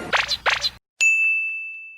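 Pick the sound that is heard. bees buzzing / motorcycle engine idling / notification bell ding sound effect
notification bell ding sound effect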